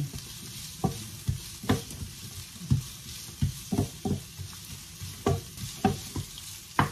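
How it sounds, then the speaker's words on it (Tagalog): Onion fries in a pan at full heat for creamy chicken with broccoli, a constant sizzle broken by frequent scraping, stirring knocks in an uneven rhythm, close and fairly loud. "Kailangan naka-full temperature tayo para madali maluto yung pina-fry natin onion."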